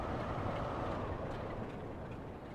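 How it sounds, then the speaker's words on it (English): Diesel train engines rumble in the rail game Great Western Express, a dense, steady low drone with a faint distant bed of mechanical noise and no voices. "Listen to all those diesel engines."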